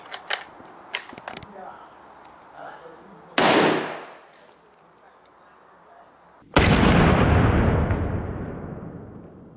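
Two loud gunshots from a .58 caliber black-powder firearm fired outdoors at watermelon targets, each a sharp close blast with a long rolling decay, the second heavier, after some faint earlier pops.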